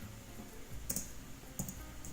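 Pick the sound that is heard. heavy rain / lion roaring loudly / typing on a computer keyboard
typing on a computer keyboard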